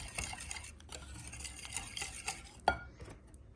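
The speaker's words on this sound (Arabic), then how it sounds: "نحركو الخليط،" A spoon stirs thick pancake batter in a bowl, with steady scraping and a few light clinks against the sides, close up.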